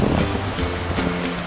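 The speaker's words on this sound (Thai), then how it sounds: "คลื่นซัดมาแล้ว" Sea waves washing onto the sandy beach at Bang Saen in strong wind, a continuous rushing surf with gusty wind noise on the microphone.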